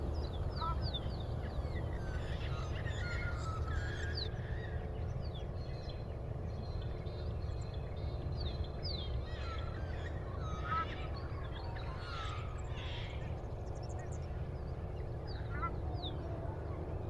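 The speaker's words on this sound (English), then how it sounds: "A lot of birds." Many birds call and chirp in scattered bursts over a steady low background rumble, moderately distant.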